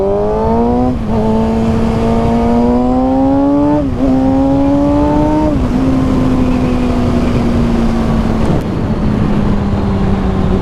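Kawasaki ZX-6R motorcycle accelerating hard from 0 to 100 km/h, its loud engine whine climbing in pitch through several quick gear shifts before settling into a steady high drone.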